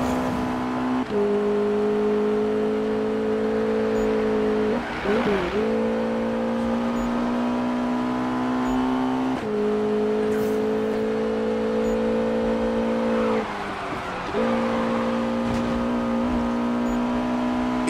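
A McLaren in Need for Speed (2015) accelerates hard, its engine whining upward through the gears with several sharp shift dips, loud and sustained close up, with no talk over it.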